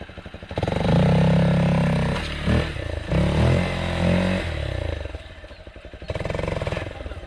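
A Hero Xpulse motorcycle engine revs hard at full throttle nearby, its loud droning roar rising and falling through a couple of long bursts with a brief dip in between.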